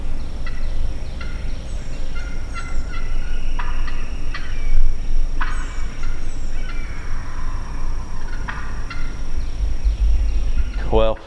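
A wild turkey tom in the Georgia spring woods gobbles repeatedly, several loud rattling calls spaced across the stretch over a low outdoor rumble, with a brief sharp burst near the end.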